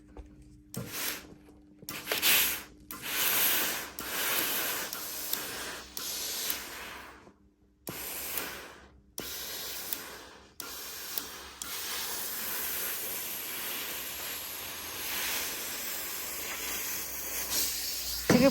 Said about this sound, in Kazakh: Үтіктеп шығатын боламыз.